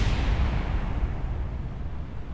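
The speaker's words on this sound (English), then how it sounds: "Rude explosions." Explosions in the Kerbal Space Program video game roll out as one deep, loud boom that decays into a long low rumble, with no voices.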